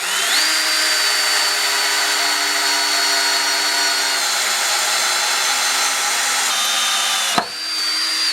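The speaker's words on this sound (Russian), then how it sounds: "мне осталось просверлить новые отверстия под шпунт" Power drill boring new bung holes into an oak barrel stave during a wooden barrel repair, a steady high whine running continuously, close and loud, with a brief sharp break near the end before the motor spins again.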